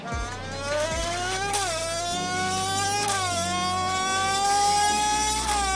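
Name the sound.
bent drink can mimicking F1 engine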